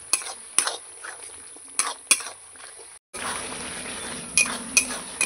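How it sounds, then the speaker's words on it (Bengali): Spice paste is stirred and fried in a pan as part of a chicken curry made with ground spices, yogurt and tomato: a steady close sizzle with repeated metallic scrapes and clinks of a spoon against the pan. "মশলা আমার কষানো হয়ে গেছে।"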